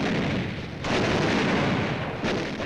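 Artillery fire during a night-time artillery duel on Iwo Jima, heard as a sustained, loud, dense roar of bursts with a sharp new onset partway through and another later, with no talking.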